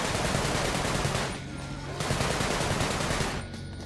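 Enemy gunfire in the video game Sunset Overdrive: rapid, sustained automatic bursts, loud and close, in two long volleys separated by a brief lull.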